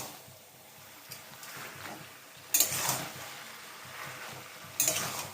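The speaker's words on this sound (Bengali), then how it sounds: "নাড়িয়ে চাড়িয়ে দিতে হবে।" A spoon scrapes and stirs a pan of bean, potato and cabbage curry, soft shuffling with a couple of sharper metallic clinks, close and fairly quiet.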